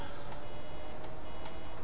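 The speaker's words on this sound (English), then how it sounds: "this buzzer is annoying" Warning buzzer in Farming Simulator 2017 beeps repeatedly over steady machine engine noise, high-pitched and insistent.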